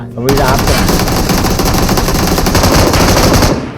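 Video game gunfire from a fast automatic weapon in a team shooter match, a loud, dense, continuous burst of rapid shots lasting several seconds with no breaks.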